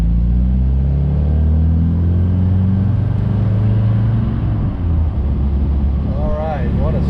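A yellow 1970 MG MGB under way, its engine droning low and steady with road rumble inside the cabin, loud and continuous throughout.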